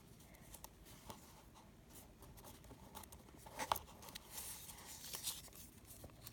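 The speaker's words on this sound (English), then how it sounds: "fold up the flap on the middle crease here" Origami paper flap folded up along a middle crease for a hatching chick model: faint, close rustles and soft scratchy creasing strokes, with a couple of sharper crinkles midway and near the end, no talk.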